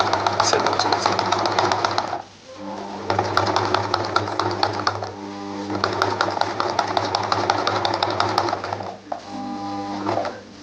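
A semi-automatic sewing machine with a buttonhole foot stitching a shirt cuff buttonhole runs in rapid mechanical bursts with a humming motor, pausing briefly twice between stitching runs.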